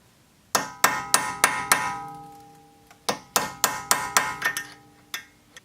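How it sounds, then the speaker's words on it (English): Sharp metallic hammer strikes on a punch against the axle nut of a 2002 Subaru Impreza WRX wagon, a quick run of five ringing blows, a pause, then another burst of about six, close and loud. "you'll want to grab a punch, and where it's indented right here, you want to hammer this out"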